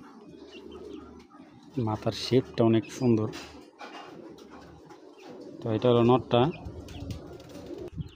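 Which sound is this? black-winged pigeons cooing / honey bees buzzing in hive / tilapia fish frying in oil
black-winged pigeons cooing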